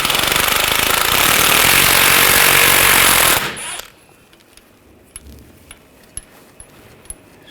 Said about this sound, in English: Using a 24mm socket, we're going to loosen this nut for the lower ball joint.